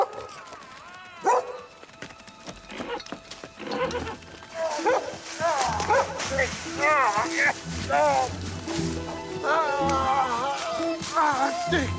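A dog barks and yips repeatedly in a rural countryside scene, the barks rising and falling over a busy background of voices and movement, with a horse also audible.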